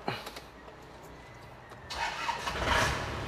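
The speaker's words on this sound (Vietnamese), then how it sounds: "lắc nhẹ chìa khóa nổ máy rồi." A 2007 Isuzu Hi-Lander is started with the key: soft clicks and a brief starter whir, then the engine catches, and a louder surge rises as it revs up and settles near the microphone.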